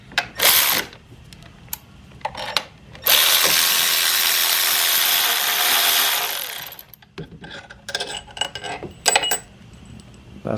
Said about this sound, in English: to remove these ones, you gotta use a short 15 millimeter.